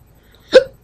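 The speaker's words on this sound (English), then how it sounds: "Ooh, hiccup." A single sudden hiccup from a person, brief and close, standing out against near silence.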